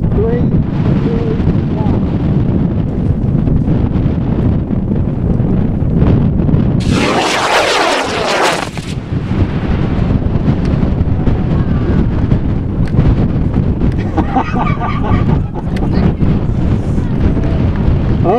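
Model rocket on a K33 Sparky motor launches at a Christmas tree launch event with a sudden loud crackling hiss lasting about two seconds amid steady outdoor wind, followed by faint distant crackle and crowd murmur.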